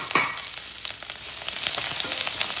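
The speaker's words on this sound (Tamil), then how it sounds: "வெங்காயத்தை போட்டு வதக்கிக்கலாம்." Onions sautéing in a pan of hot oil with mustard seeds, urad dal and cumin, a close, steady sizzle broken by quick scraping stirs.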